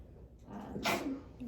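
A single short sneeze bursts out in a quiet room amid faint background murmur, with soft breathing noises before it.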